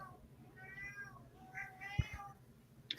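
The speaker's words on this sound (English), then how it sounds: "that's my cat, and he has this habit of just wandering around and meowing for no reason" A house cat wanders and meows nearby, giving a couple of soft, drawn-out meows with a faint thump, quiet against a low room hum.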